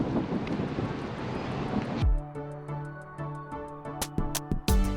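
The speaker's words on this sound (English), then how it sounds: "It's windy today." Gusty wind buffets the microphone aboard a Nordhavn 43 trawler crossing the Columbia River bar for the first two seconds, then gives way to quieter tonal sounds and sharp clicks.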